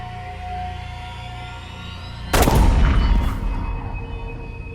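A single loud gunshot in a crime reenactment booms abruptly after a quiet, tense ambient stretch, followed by a lingering rumbling decay.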